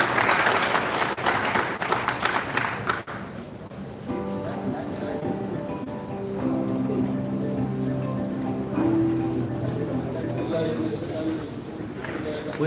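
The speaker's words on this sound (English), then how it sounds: "Please, a round of applause for him." An audience at a mentorship summit in Kano applauds as an official is welcomed to the stage; a few seconds of dense clapping give way to sustained tonal music.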